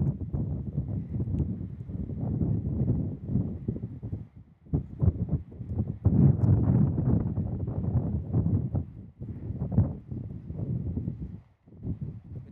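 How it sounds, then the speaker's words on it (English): Strong gusting wind of about 30 mph at Kansas City International Airport buffets a wind-muffed microphone, a continuous low roar that surges and dips in waves, loud and close. "I have a wind muff on. That's how windy it is. It's 30 miles an hour."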